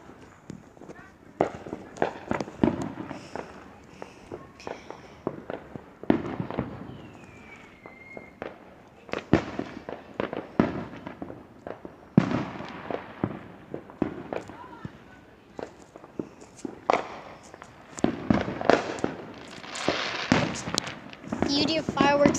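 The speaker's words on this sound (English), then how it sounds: "Hopefully there's a lot of big fireworks." Fourth of July fireworks crack and pop in scattered bursts, some sharp and near, others softer and farther off, with voices and crowd movement mixed in throughout.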